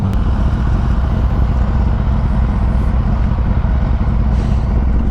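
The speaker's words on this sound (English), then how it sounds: "His bike sounds so good." Motorcycle engine in a video game, a steady loud drone holding at a constant pitch throughout, dense and unbroken like a bike cruising at speed.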